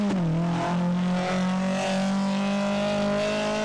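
The number 29 Lada Zhiguli rally car races an auto sprint stage in the Sliven Balkan mountains. Its loud, close engine holds a strong, steady drone that rises slightly in pitch throughout.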